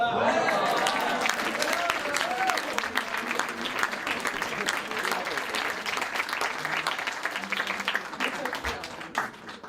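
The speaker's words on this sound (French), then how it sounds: "vous pouvez faire un tonnerre d'applaudissements pour Félix, Hugo et David" An audience at an evening show gives loud sustained applause, dense clapping filling the room for nearly ten seconds, tapering slightly toward the end.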